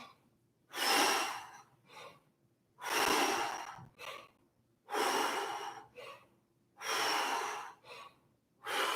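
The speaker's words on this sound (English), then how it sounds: "let's start off with 10 breath squats. Exhale it out" Four strong, breathy exhales come in a steady rhythm during breath squats, each a long noisy rush of air separated by quiet pauses, close and clear with no talking.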